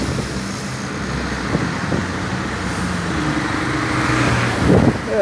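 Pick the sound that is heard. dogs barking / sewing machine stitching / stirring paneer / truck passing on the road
truck passing on the road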